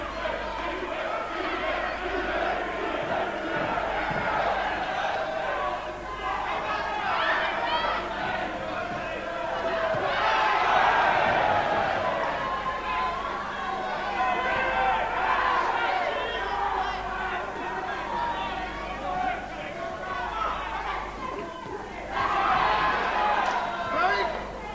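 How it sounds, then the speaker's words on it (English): Crowd at a Jim McDonnell vs Pat Doherty boxing match, a continuous roar of cheering and shouting that swells loudly around the middle and again near the end, with a commentator talking over it throughout. "Crowd absolutely lapping up this very skillful work that Jim McDonnell is putting in"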